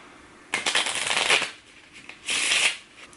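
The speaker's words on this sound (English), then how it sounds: "I'm just going to shuffle the deck" A deck of playing cards is shuffled close up in two quick riffling bursts, each a dense crisp flutter lasting about a second, separated by a short pause.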